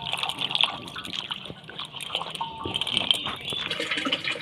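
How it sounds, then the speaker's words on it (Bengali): Water splashes and trickles fairly softly while small puti fish are rinsed by hand to wash off their scales, with uneven dribbles and light sloshing throughout. "এইভাবে জল দিয়ে দিয়ে ধুয়ে ধুয়ে আঁশগুলো সব বাদ দিয়ে দেবো।"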